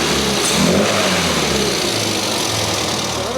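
A car engine fitted with a freshly tuned SU carburettor revs up close, loud and steady, with a rough mid-range drone and slight rises in pitch.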